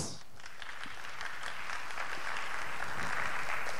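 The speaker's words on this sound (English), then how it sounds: "Round of applause." Audience applause at a FOSSASIA Summit 2017 talk, clapping that starts thin and builds into a full, steady round from a room of listeners.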